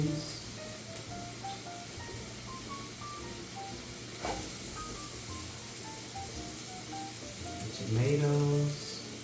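Onions frying in a little oil in a home kitchen, a steady soft sizzle running throughout with music playing over it and a louder burst near the end.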